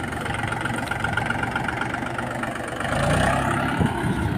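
A tractor engine runs steadily close by on a farm while it mixes manure for fertilizer, with a low, even drone that swells slightly louder toward the end, and no talk.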